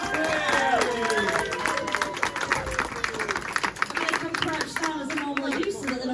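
Round of applause for speedway riders at a Belle Vue versus Workington press conference, crowd clapping mixed with cheering and voices, loud and continuous with talk underneath.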